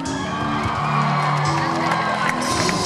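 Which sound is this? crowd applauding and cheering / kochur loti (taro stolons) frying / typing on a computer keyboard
crowd applauding and cheering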